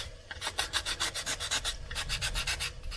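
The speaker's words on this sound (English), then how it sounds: "Just sand again" Steady back-and-forth rasping strokes of sandpaper along the grain of wooden wagon planks, rhythmic and close, about five or six strokes per second.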